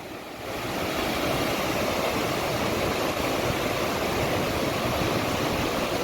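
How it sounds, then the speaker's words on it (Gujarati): A steady, loud roar of a waterfall in the Barda hills fills the scene, a dense continuous rush of water that rises within the first second and holds evenly throughout, with no voices. "આ છે મિત્રો ધોધ"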